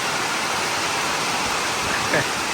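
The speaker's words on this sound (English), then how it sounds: "it started pouring down rain here." Heavy rain pours down outdoors at a fishing spot, a dense, constant hiss of falling water with a faint brief voice near the end.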